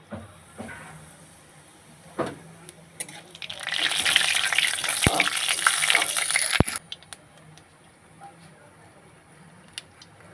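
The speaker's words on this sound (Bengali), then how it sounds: "গরম হয়ে গেছে এবারে দিয়ে দেব কালো জিরে" Nigella seeds (kalo jeere) dropped into hot oil for a Bengali fish curry burst into a loud, steady crackling sizzle lasting a few seconds, then quickly fade to quiet kitchen background.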